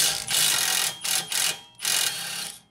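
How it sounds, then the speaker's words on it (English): A pneumatic impact wrench with a 17 mm socket spins on a bolt of a 2016-2021 Honda Civic rear upper control arm, giving three loud, close rattling bursts separated by short pauses, with no talk. "17 millimeter socket on my impact here, and we're going to try to get this bolt to spin"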